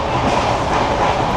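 A Konkan Railway passenger train runs through rainy countryside, a steady loud rumble and rattle heard from inside the coach, with no talk.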